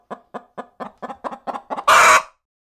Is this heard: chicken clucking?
yes